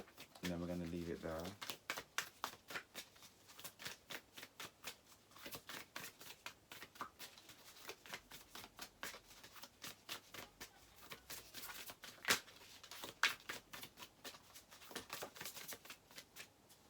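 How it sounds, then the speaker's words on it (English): Tarot cards shuffled over and over in a continuous dense riffling patter with a few sharper snaps as one card is pulled, heard fairly close, with a brief voice near the start. "So we're going to pull one more card, and then we're going to leave it there."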